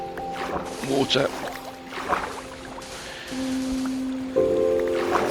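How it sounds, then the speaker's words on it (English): Water in the video game Minecraft sloshes and splashes in short bursts, joined by steady tonal game sounds that shift partway through, close and moderately loud. "Oh, water."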